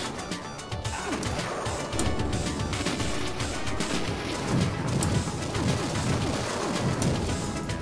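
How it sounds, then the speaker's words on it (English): Dense, continuous crashing and booming from explosions in the arcade light-gun game Line of Fire, layered with rapid gunfire-like bursts, loud and chaotic throughout. "Wow, look at these explosions."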